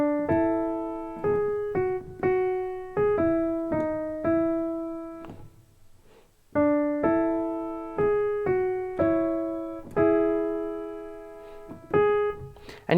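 Solo piano plays a full line of the worship song "Through It All", with struck chords in a steady rhythm and a short pause partway through. The playing is close and clear, with no voice.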